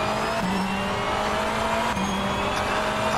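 In the rFactor 2 racing game, a BMW M V8 Hybrid LMDh race car sheds speed from nearly 350 km/h, its loud engine note stepping down through downshifts, with a steady drone and faint tire noise.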